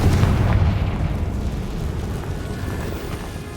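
A Confringo fire spell bursts in Hogwarts Legacy, a loud, close boom at the start that settles into a low, rolling rumble.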